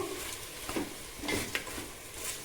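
Chicken kebab ingredients and salt being mixed by hand in a bowl, giving soft, faint, irregular squelching and stirring sounds close by with no talking.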